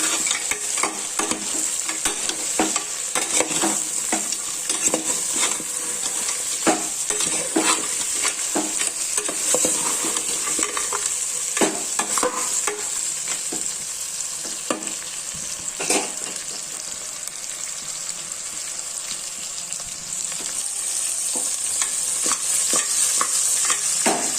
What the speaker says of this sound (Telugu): ముక్కలు వేసేసి అంతా ఒకసారి బాగా కలపాలి